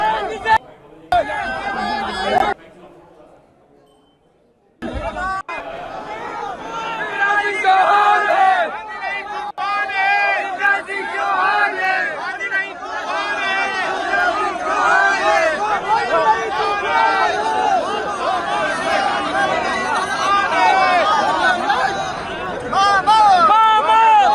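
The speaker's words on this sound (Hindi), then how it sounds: "मामा मामा के नारे यहाँ पर साफ तौर पर सुने जा रहे हैं" Supporters of Shivraj Singh Chouhan chant "Mama Mama" in a dense crowd around his car, a loud, steady roar of massed voices and shouting that swells after a brief quiet near the start.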